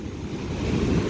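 Pacific Ocean surf rolls in as a steady broad roar of waves, full and close, with wind buffeting the microphone.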